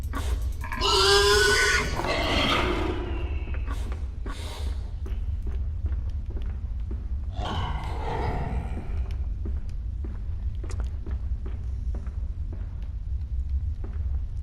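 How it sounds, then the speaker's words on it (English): In the video game Amnesia: A Machine for Pigs, a pig creature gives deep, rough grunts and snorts in two loud bursts, set over a constant low droning rumble with scattered faint clicks. "It's like a big pig thing."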